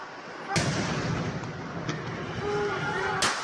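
Sharp gunshots ring out during street clashes between protesters and the National Guard in Venezuela, with three separate bangs spaced apart against a constant roar of crowd and street noise.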